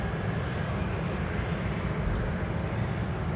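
Jet aircraft engine roaring steadily during takeoff at Anchorage airport, a loud, dense, continuous rumble with no break across the whole stretch.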